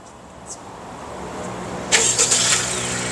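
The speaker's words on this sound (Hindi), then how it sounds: "ये गाड़ी रिमोटली स्टार्ट हो जाएगी और इसका AC भी ऑन हो जाएगा।" A Honda Civic X RS Turbo starts by remote key: quiet ambience, then a sudden cranking catch about two seconds in, settling into a steady, fairly close idle.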